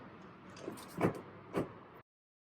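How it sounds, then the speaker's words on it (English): The driver's door of a 2021 Lexus UX opens: two sharp clicks from the handle and latch about half a second apart, close and fairly quiet, over a low background hum. "put your hand in the driver's door handle and open the door"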